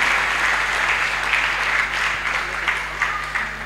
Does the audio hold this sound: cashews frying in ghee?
no